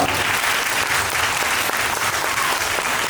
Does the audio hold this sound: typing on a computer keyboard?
no